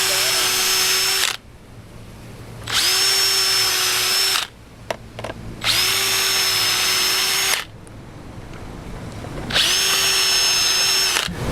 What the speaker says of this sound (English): I'm gonna pre-drill those and try to make sure I don't come through the other side.